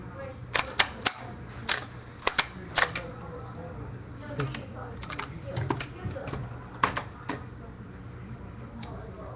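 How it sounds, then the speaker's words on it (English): Three staplers clack in a burst of sharp, snappy clicks, several in quick succession, then scattered lighter clicks and handling noise, with faint background sound. "And, the finale. All 3 of the staplers."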